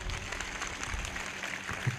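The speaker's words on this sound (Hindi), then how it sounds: "ताली बजाएंगे वो लोग जिनको नींद आ रही है, जोर से ताली बजाएंगे, जोर से।" An audience at a night prayer service claps together in a steady, continuous patter that sounds somewhat distant and moderately quiet, with no voices over it.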